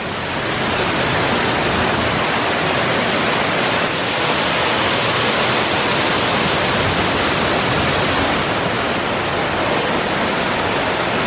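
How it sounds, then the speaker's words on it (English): A waterfall at Watkins Glen State Park roars in a loud, steady broadband rush that fills the whole stretch without a break, close by and with no voices. "Looks like we can walk behind this waterfalls."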